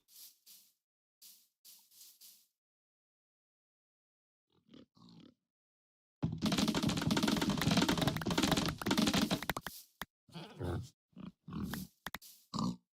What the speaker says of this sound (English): There's the pigs.